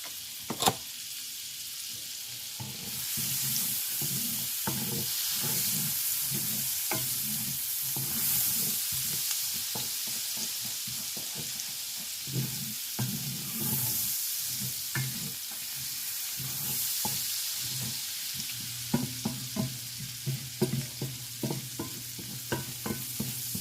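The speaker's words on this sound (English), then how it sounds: "Saute my onions." Onions sauté in a pan alongside green peppers. A continuous soft sizzle carries on throughout, with frequent close clicks and scrapes of a utensil stirring, growing busier toward the end; no voices.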